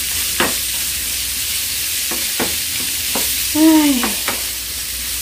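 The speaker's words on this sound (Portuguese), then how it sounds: "Vou fritar aqui rápido." Charque, dried beef, frying in a pan for a simple home dinner: a steady close sizzle with a few sharp clicks of the utensil stirring, and a brief vocal exclamation over it.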